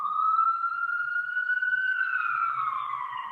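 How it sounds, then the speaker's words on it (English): Ambulance siren passing in the city, a steady wailing tone that slowly sweeps and drifts lower as it moves off, fairly loud and alone. "Apologies for the ambulance, city living."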